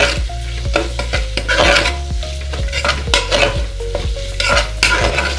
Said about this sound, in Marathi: त्यानंतर आपण ॲड करूया टोमॅटो टोमॅटो पण दोन तीन मिनटं आपण फ्राय करून घेणार